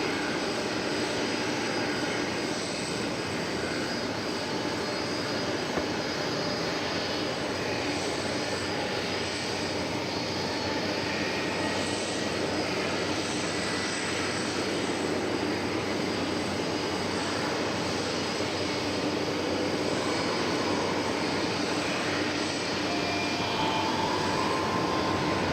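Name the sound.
airplane taking off at DFW Airport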